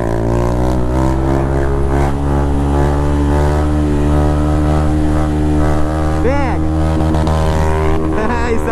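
A Honda Titan 160 motorcycle rides with a passenger on the back, its engine droning loud and steady at close range, pitch rising briefly as the throttle opens, with a voice talking over it.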